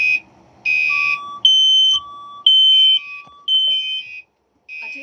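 A building fire alarm sounds its evacuation tone during an alarm test: loud, steady electronic beeps that switch on and off in an irregular pattern, some holding longer than others, with no talking.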